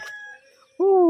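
A close rooster in a Lao village lets out a short crow, its call cut off abruptly at the end, with a brief faint cluck-like sound before.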